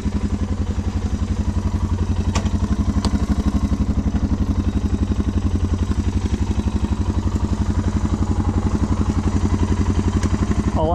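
A Suzuki DR650 motorcycle engine thumps steadily and loudly throughout, a close, even single-cylinder rumble while riding.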